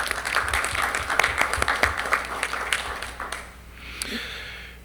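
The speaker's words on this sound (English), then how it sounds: "let's give them a round of applause" Applause at a school board of education meeting for a competition winner: a room of people clapping steadily for about three seconds, then fading out with a little background murmur and a faint knock.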